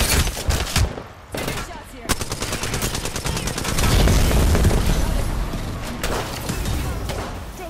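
Gunfire rattles through a video game shootout, with loud close bursts of automatic fire, a few sharp single shots and brief pauses, then a dense sustained barrage building toward the end.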